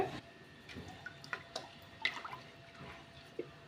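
Water splashing and dripping over roasted moong dal as it is rinsed in a bowl, a few soft scattered splashes and drips close by with no talking.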